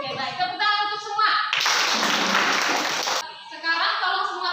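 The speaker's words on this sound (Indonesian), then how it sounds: "Tepuk tangan untuk semua." A grade 8 class claps hands in one loud, dense burst of about two seconds, with a teacher speaking before and after.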